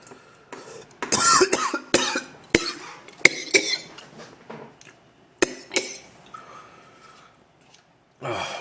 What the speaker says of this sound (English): Just coughing, bleh.